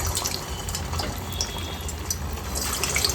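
Suji kakara pitha sizzles steadily after being dropped into hot oil, a dense, even frying hiss with small crackles and pops running throughout.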